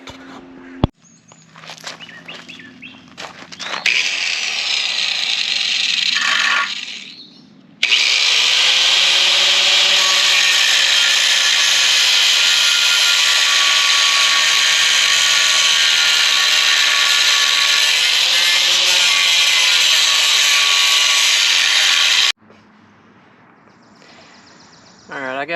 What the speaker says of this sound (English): But right now I'm gonna go ahead and cut these mufflers off.